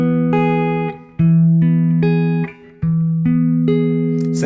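Guitar plays major triad shapes moved to the next string set, sounding as a series of clear, evenly paced plucked chords and notes that ring close and loud with no talking.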